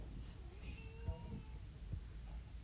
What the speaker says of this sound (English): I can hear my cat just meowing at him over and over.